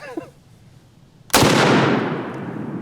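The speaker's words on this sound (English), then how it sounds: "let's see what the pistol does" A single loud pistol gunshot fired outdoors next to a chronograph, a sharp crack with a long ringing decay after a brief quiet stretch.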